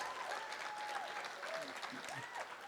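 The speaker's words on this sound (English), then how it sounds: "You can applaud." Audience applause greets a Democratic candidate being introduced at a local first selectman debate, a steady moderate clapping that fills the whole stretch, with faint voices mixed in.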